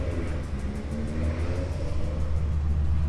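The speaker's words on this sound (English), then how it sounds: "Ford GT40 running like a demon today." A classic Ford GT40 runs on the track at a Goodwood track day, its engine a steady, deep rumbling drone that holds at a fairly constant level throughout.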